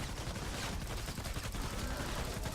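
Rapid gunfire from the Gravedigger weapon in Fortnite Save the World, a dense, loud, continuous stream of shots.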